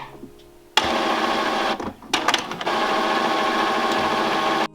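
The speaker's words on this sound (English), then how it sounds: "we're going to hit the start button to start charging all the ink and filling the printer with the ink here" An Epson printer set up for sublimation charges its ink during initialization, whirring and buzzing loudly with a steady mechanical drone after a quiet start, briefly pausing with clicks midway before resuming.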